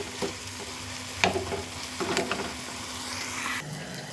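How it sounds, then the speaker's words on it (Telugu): Tamarind and tomatoes fry softly in oil with a low, steady sizzle, punctuated by a few stirring scrapes and taps of a spoon in the pan and no speech. "ఈ చింతపండుని కూడా ఇందులో వేయించేసుకుందాం టమాటాలతో పాటు చింతపండు కూడా మగ్గిపోద్ది"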